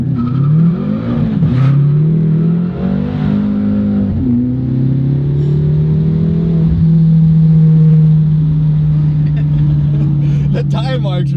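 A BMW M6 engine revs hard and accelerates at full throttle, a loud, sustained, rising drone close to the car that holds steady at a high pitch.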